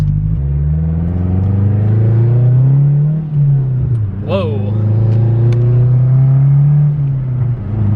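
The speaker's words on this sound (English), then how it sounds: "You can hear a lot more turbo spool" A loud Mazdaspeed 6 engine with an aftermarket downpipe drones and accelerates steadily while a rising turbo whistle briefly spools up over it; a person exclaims once.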